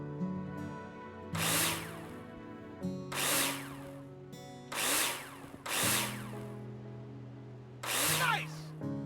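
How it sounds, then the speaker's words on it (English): Power drill driving screws into plasterboard in the video game Builder Simulator, five loud whirring bursts of about a second each, separated by short pauses, close and clear. "Take your drill out and screw them in."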